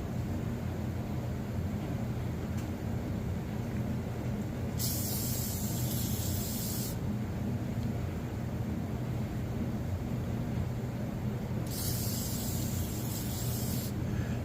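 Steady hissing aerosol spray onto Holley 700 carburetor parts in two long bursts of about two seconds each, over a constant low background rumble.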